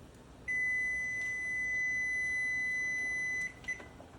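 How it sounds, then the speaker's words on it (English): A kitchen timer gives one long, loud continuous beep lasting about three seconds, then cuts off and chirps twice briefly in a quiet room, with no voices. "All right, so timer's about to go off."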